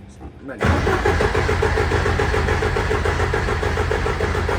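A car engine on a tuned project car cranks briefly, then catches and settles into a loud, steady idle that runs close by for the rest of the moment.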